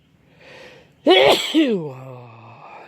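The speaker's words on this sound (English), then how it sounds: "I'm going to sneeze." A single loud sneeze bursts out after a soft inhale, trailing off into a short voiced exhale.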